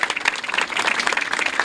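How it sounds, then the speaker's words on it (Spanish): Crowd applause at a Fiestas Patrias parade, dense continuous clapping from many hands, close and lively for the brief stretch with no pauses. "Al Club de Cueca Guillermo Cortés, un aplauso grande, que ha sido parte siempre de estos desfiles maravillosos."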